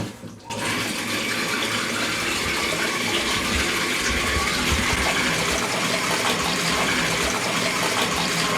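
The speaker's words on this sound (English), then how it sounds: "Now we open the water." Water gushing steadily from a newly installed bathroom faucet after the supply lines are reconnected, a loud, close, continuous rush that starts abruptly after a brief quiet moment.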